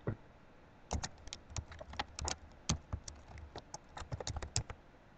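Typing on a computer keyboard during a Linux terminal session: quiet, close, irregular key clicks arrive in quick bursts with short pauses between them.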